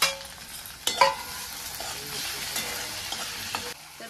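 Tomatoes frying in hot oil on a griddle with reddened onion, green chili and curry leaves, a soft steady sizzle broken by a few scraping stirs near the start.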